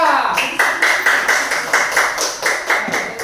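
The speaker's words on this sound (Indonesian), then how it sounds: "beri tepuk tangan kepada kelompok 3" A classroom audience claps for a student group in a steady, rhythmic beat of about four claps per second, close and fairly loud, with voices likely mixed in.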